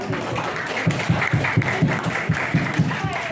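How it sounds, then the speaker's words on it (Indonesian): Applause from an audience at a student-teacher farewell and withdrawal ceremony at a junior high school, heard as steady group clapping with rhythmic, punchy beats mixed with crowd murmur and talk. "Diberi aplaus"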